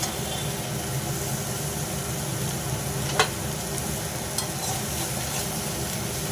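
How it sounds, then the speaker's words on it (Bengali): Ridge gourd and fried lentil fritters are stirred in a curry in a pan, giving a steady soft sizzle and scraping under a constant background hum, with one sharp clink of the utensil. "ধুঁদুলগুলো দিয়ে একটু ভালো করে নেড়ে চেড়ে নেব।"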